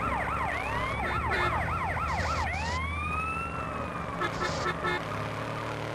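An ambulance siren in Grand Theft Auto San Andreas wails loudly in a rapid yelping pattern that slides into a long rising wail, over steady engine and road noise.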